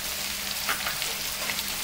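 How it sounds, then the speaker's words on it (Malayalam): Green chili, ginger and garlic sizzle steadily in hot oil while being sautéed for a Kerala-style beef fry: a close, continuous frying hiss with faint crackles and no talk. "നന്നായി വരട്ടിയെടുക്കണം."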